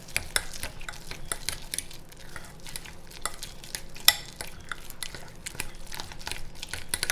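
Protein blueberry muffin batter with cashew milk being stirred in a microwave-safe bowl, with steady scraping and tapping strokes repeating at a quick rhythm, close and moderately loud.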